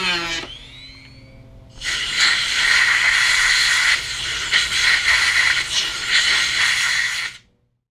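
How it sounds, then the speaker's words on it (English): Compressed air from a hose blasts trash out of the screw holes in a Honda Goldwing trunk lid: a steady, loud hiss running about five seconds, slightly uneven, then cutting off, preceded by a brief metallic clink. "It's always good to use an air hose to blow out any trash"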